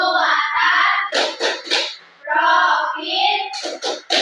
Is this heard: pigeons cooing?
no